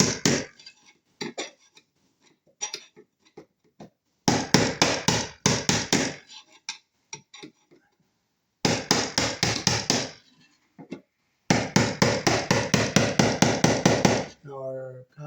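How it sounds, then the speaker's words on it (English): A flathead screwdriver taps a metal conduit fitting down: bursts of quick, sharp, evenly spaced metallic taps, close and loud, separated by pauses. "So you can take your flathead screwdriver and just tap it down like this."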